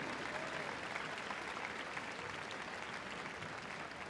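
Steady, sustained audience applause fills a large indoor arena after the Royal Kennel Club dog activities display at Crufts 2025, a dense even roar of clapping with a faint crowd murmur underneath.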